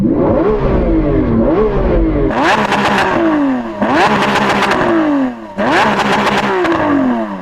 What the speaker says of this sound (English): Rev up your car. I want to see if it sounds any different, whether you've got a different exhaust.